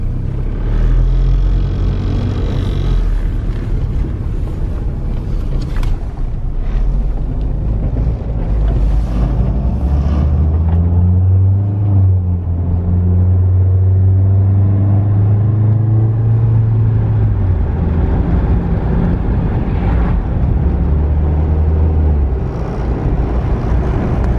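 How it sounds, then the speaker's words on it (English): Engine of a truck parked and idling in a driveway with its lights on, a low steady rumble heard from outside among wind noise, with a deeper droning swell in the middle and no speech. "It's like the 5th or 6th truck that I've just seen parked, running in the driveway with its lights on."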